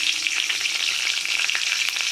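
Raw tomatoes, cut into thick pieces, hit hot oil already crackling with nigella seeds and slit green chillies, giving a loud, steady sizzle and spatter throughout with no talking.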